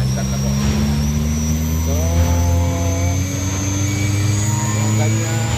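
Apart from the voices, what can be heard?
ZMVF 11 kW air compressor motor running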